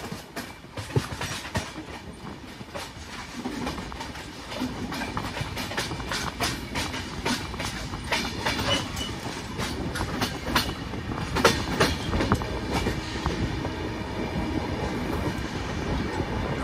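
Shantiniketan Express (12337) pulling into platform 2 at Barddhaman station after the run from Howrah: a loud, continuous rumble of carriages with rhythmic clickety-clack of wheels over rail joints, steady throughout and growing slightly busier toward the end, with no voices.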